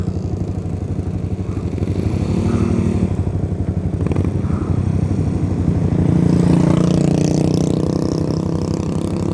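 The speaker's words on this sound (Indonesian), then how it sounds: "pada ke atas tuh motor-motor juga" Several motorcycles on a Sunday morning group ride climbing a steep road uphill toward a sunrise point in Pangalengan, Bandung, with loud, continuous engine drone that swells as the bikes rev and pull, close by and without talk.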